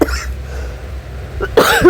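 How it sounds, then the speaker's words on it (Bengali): A cold-induced cough bursts out near the mic at the end, loud and harsh, after a stretch of quiet room tone with a faint low hum. "এত ঠান্ডা লেগেছে তাই খুব কাশি হচ্ছে"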